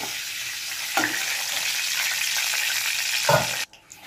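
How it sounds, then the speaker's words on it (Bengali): Potol (pointed gourd) frying in oil makes a dense, close sizzle with two soft utensil taps, then the sound cuts off abruptly near the end, leaving near silence. "আমার সব পটলগুলো ভাজা হয়ে গেল।"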